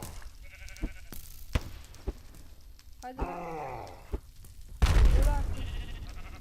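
A sheep in the video game Minecraft bleats in a few short, wavering calls in the middle and near the end, mixed with sharp game clicks and thumps while someone talks over the gameplay.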